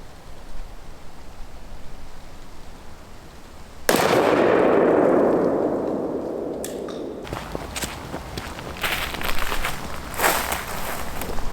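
A Stevens 301 20-gauge shotgun loaded with Federal number 9 TSS fires a single loud, sharp blast that rings out and decays over a couple of seconds, then light handling and rustling follow, with no talk.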